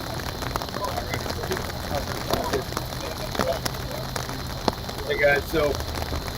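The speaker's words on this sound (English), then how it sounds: "You can see rain coming down" Rain falls outdoors in a steady patter on surfaces, with scattered drips close by, while someone talks over it.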